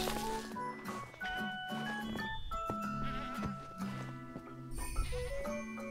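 A video game goat bleats several times, quietly, over soft game music and light hoof-like clatter, with no voices.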